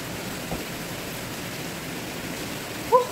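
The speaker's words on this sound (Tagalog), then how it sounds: "Lakas ng ulan guys" Heavy rain pours down as a steady, even broadband hiss that lasts throughout, with no voices and only a brief faint chirp near the end.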